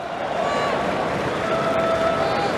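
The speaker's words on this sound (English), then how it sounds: "Gets a round of applause from the fans of Australia." Football fans in a World Cup stadium at a France versus Australia match applaud a substituted Australian player, a steady, dense wash of crowd noise with clapping and cheering that holds at a constant level throughout.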